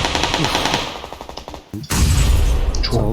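Gunfire from a player hitting an enemy's helmet in PUBG Lite, with rapid, loud, close automatic shots, a brief gap, then more heavy firing and impacts.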